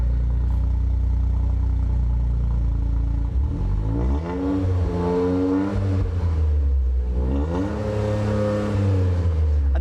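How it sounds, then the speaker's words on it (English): A 2023 Toyota GR Corolla engine idles low, then revs up twice through a throaty sporty exhaust, each rise climbing and falling back, loud and close. "Go ahead and rev it up."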